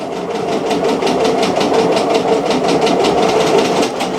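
An embroidery machine stitches a satin-stitch border on a sweatshirt appliqué, a loud, steady mechanical whir with a fast, even pulsing rhythm heard close up and continuously, with no talking.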